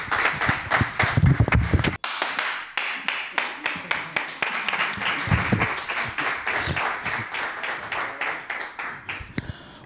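At a comedy club contest heat, a crowd applauds to welcome a comedian, with a loud burst and cheering at first, then steady rhythmic clapping that goes on for several seconds.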